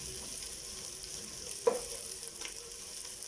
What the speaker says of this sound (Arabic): هكمل معاها التحمير